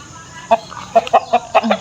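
Chicken clucking close by inside a house, a series of short, sharp clucks in an uneven rhythm with brief pauses between bursts.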